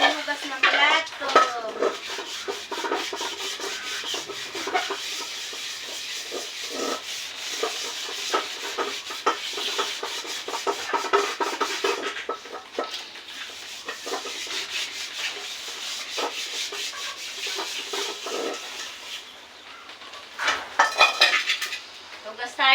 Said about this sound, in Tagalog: samahan niyo po ako sa uurong, hugas ng plato